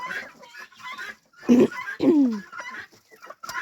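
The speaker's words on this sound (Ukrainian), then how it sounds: "Півники, півники, цей півник гарний" Roosters on a Ukrainian homestead cluck close by in two loud bursts, one rising and falling, among softer scattered farmyard chatter and no talk.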